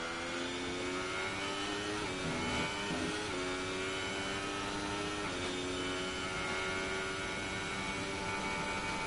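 An F2 race car from a video game screams through a fast lap at the Japanese Grand Prix, its engine a steady high-pitched whine that dips and climbs again through gear changes, loud and continuous.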